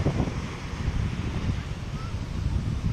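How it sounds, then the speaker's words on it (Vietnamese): Loud, steady wind noise buffets the microphone over the continuous roar of big waves breaking on cold Nha Trang beach on a weekend afternoon, with no pauses. "Thì sóng nó lớn quá cho nên là nó đánh cát vô nó bị những cái bật này vậy."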